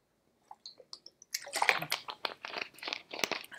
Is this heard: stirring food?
no